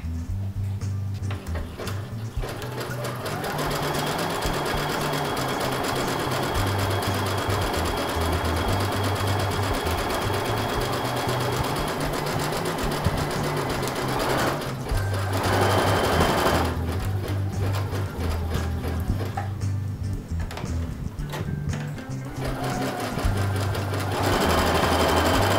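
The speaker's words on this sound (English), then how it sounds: "you're going to sew right along the edge" A sewing machine stitches along a fabric edge while sewing a zipper fly, whirring loud and continuously in long runs with brief slowdowns and pauses between passes.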